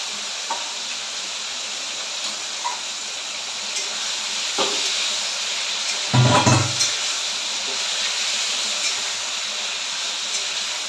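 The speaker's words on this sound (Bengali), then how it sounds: "চিংড়ি মাছটা ভেজে নিতে হবে প্রথমে।" Prawns frying in a pan give off a steady broadband sizzle throughout, broken by a few soft clicks and a louder clattering stir burst about two-thirds of the way in.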